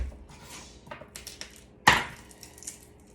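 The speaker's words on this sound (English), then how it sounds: "I'm just gonna crush these garlic cloves, give them a quick chop." A knife comes down on crushed garlic cloves with one sharp, close chop standing out among a few lighter taps and scrapes on the board, then quiet.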